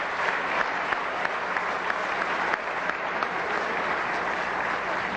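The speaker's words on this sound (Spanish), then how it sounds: "vamos a darle un aplauso a nuestra compañera" A studio audience at the Venezuelan television program Aló Presidente gives Nora Castañeda steady, dense applause, loud and sustained throughout with no speech over it.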